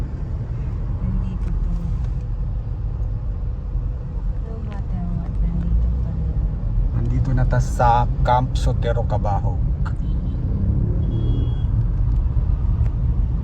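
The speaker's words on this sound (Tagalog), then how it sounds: "Grabe ang traffic." Heavy city traffic in Cebu heard from inside a car, a constant low engine and road rumble under people talking throughout.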